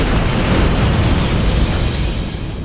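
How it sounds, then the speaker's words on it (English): A huge explosion in a dramatized firehouse scene set during the 1906 San Francisco earthquake and fire erupts as a loud, deep, sustained rumbling roar that tails off slightly near the end, with no voices. "we cut to an incredible explosion."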